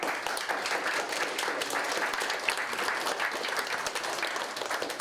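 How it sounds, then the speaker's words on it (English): A group claps at a school climate interview session, a dense, even patter of many hands that carries on steadily for several seconds, fairly close and with no voices over it. "Nice clap."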